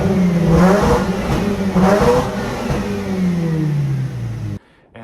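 A Mazda RX-8 rotary engine revs hard in a driveway, loud and close, climbing in two sharp surges, then sliding down in a long descending whine before cutting off abruptly into near silence.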